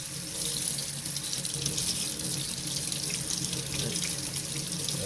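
Tap water runs steadily over PS4 disc drive rollers being rinsed in a sink, a constant close splashing stream with no pauses.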